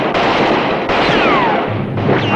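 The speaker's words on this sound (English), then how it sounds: "No more shooting!" Gunfire in a western TV show, loud sharp shots ringing out in quick succession with whining ricochets trailing after, close and harsh, no voices.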